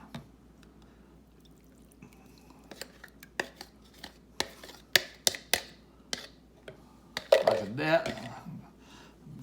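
Eggs being whisked into oil and sugar in a mixing bowl for homemade brownie batter: sparse, irregular clicks and taps of a whisk against the bowl, building to a brief burst of busier stirring, with a voice speaking nearby.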